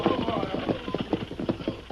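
Horses hauling a stagecoach pull up at a small way station on the road to Carson, their hooves clip-clopping in a steady, fairly close rhythm with a brief whinny and background voices mixed in.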